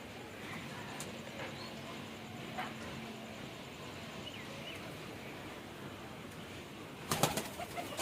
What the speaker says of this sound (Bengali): আর এই দেখো কাকিদের বাড়ি পায়রা।